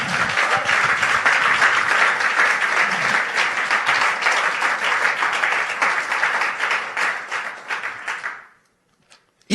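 A church congregation bursts into loud, sustained applause and cheering that fills the hall for several seconds, then fades quickly to near silence.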